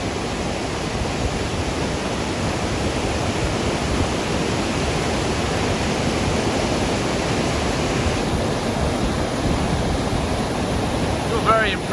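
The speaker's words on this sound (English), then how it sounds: "You've got these little thin waterfalls coming down the crevices there" A powerful waterfall in Norway's Husedalen Valley, with thin streams spilling down rock crevices, gives a steady, dense roar of rushing water that holds at a constant level throughout.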